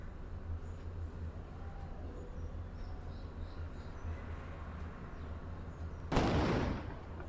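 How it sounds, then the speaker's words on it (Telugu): Deepavali firecrackers during a home festival night: a low, steady background hum, then one sharp, loud burst near the end that rings out briefly before fading. "చూడండి, బాంబులు అయితే పేలుస్తున్నారు."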